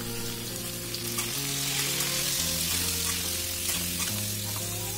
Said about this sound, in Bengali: তাই আমি দুটোকেই একসাথে দিয়ে ফ্রাই করে নেব।